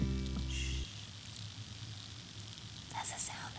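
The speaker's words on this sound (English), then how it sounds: "That's the sound of a fried chickpea" Hot fried chickpeas sizzle in oil after the heat is turned off, a soft, steady fizzing crackle that follows a brief tonal hum, faint and close with no speech.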